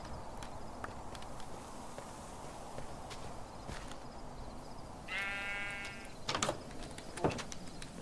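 Minecraft sheep bleat once in a game setting, a short harmonic cry standing out over steady ambient noise and faint footsteps.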